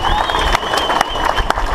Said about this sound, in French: Le voilà, et on peut l'applaudir.